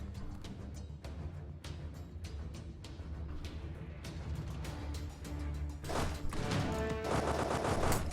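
Many guns firing at once in a video game, a dense clatter of repeated sharp shots building in intensity, with a heavy, louder volley of overlapping gunfire in the final two seconds.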